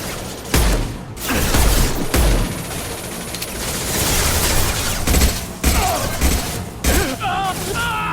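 Heavy gunfire and booming impacts fill a Mass Effect 2 firefight, with dense overlapping bursts and blasts continuing throughout at close range.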